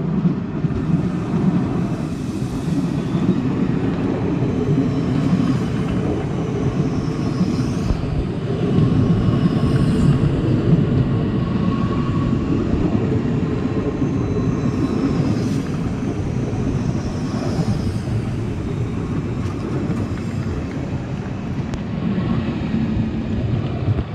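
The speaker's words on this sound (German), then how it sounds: "wir schauen uns jetzt erst einmal die Einfahrt unseres Zuges im Bahnhof Opelwerke Rüsselsheim an" HLB Alstom Coradia Continental train, running as a double unit, arriving at Rüsselsheim Opelwerke station: a loud, sustained engine and rolling hum with faint high squeals from the wheels, continuous and without talk.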